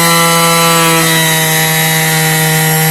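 A power sander grinds corrosion off the lip of an alloy wheel, giving a loud, steady, close whine with strong even tones that holds throughout without pause.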